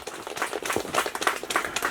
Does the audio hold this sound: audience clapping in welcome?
yes